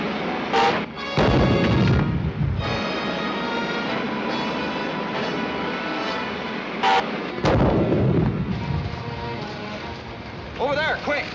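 Loud ray gun blasts and booming explosive bursts from a 1953 Commando Cody sci-fi serial, several heavy cracks sustained over rumbling roar, with voices speaking between the shots.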